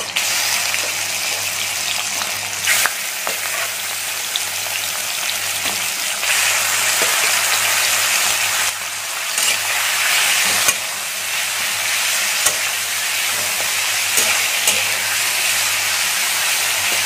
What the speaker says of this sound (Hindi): एबे आमे चिंगुड़ी को फ्राई करिबा।